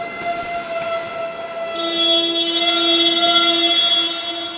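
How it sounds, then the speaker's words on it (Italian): An ice hockey rink siren marks the end of warm-up at a Serie C game, a loud sustained tonal blare that swells partway through and holds steady. "Ecco la sirena di fine riscaldamento"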